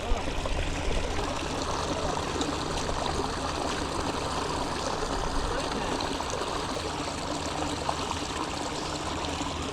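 Floodwater at a zoo pours steadily into a drain during heavy rain, a loud, continuous rushing and gurgling flow close by with no break.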